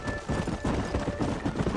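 Horse hooves clip-clop in the video game Red Dead Redemption, an even trotting rhythm of soft thuds at moderate volume, heard alone.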